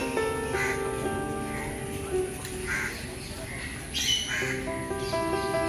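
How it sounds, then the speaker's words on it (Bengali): A great green macaw at Alipur Zoo gives several harsh, raspy squawks at moderate distance over a busy murmur of visitors' voices and other bird chirps. "ঠিক এর পাশেই দেখতে পাবেন গ্রেট গ্রিন ম্যাকাও পাখি এবং উপভোগ করতে পারবেন এদের ডাক"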